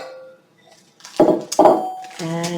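A medium-sized mixing bowl is handled during no-bake cheesecake prep, giving a few close, loud clattering knocks of the bowl against a hard surface and a ringing clink at the end.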